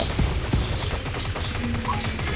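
Rapid gunfire from a video game rattles in quick bursts under a constant dense layer of game noise, with faint voice-like sounds mixed in.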